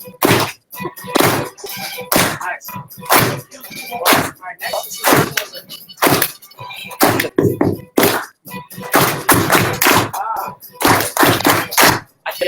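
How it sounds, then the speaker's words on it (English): A group at a Google apprenticeship event in San Francisco does a soul clap on the beat, sharp, evenly timed claps repeating throughout. A voice speaks briefly between them. "I want you guys to all begin with a soul clap on the beat."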